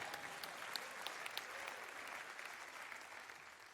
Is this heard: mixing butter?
no